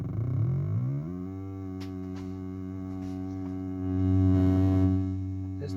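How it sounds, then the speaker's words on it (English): A square wave fed through a Crazy Dist distortion module drones as a steady, buzzy, harmonically rich tone, with a brief pitch glide at the start and a slight swell in loudness near the end, heard alone without talk. "If we listen to a square wave, it sounds like this."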